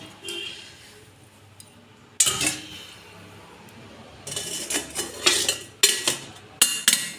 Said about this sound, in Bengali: এর মধ্যে একটা স্ট্যান্ড দিয়ে আমি এই কেকের মোল্ডটা বসিয়ে দেব। একটা ঢাকা দিয়ে দেব।